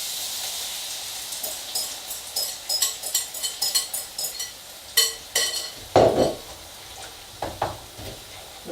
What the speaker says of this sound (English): Eggs are going in.